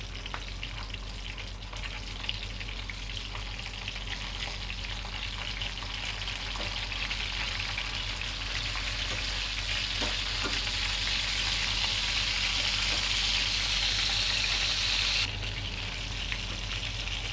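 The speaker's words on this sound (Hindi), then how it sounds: "तो जी स्लो आंच पे आपने इनको फ्राई करना है" Raw minced-meat kebabs fry over low heat in a pan with a steady, dense sizzle that holds for the whole stretch, close and fairly loud and without pause, briefly brightening toward the end.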